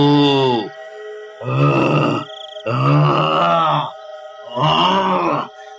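A man groans loudly in pain, four long drawn-out moans separated by short pauses, close and strained.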